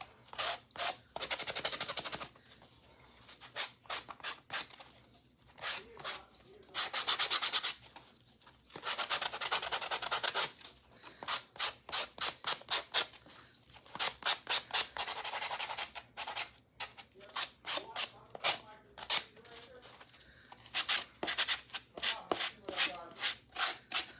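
Sandpaper rubs back and forth over a painted wooden birdhouse, smoothing lifted paint, in long scratchy strokes, then shorter rapid passes, close and fairly loud.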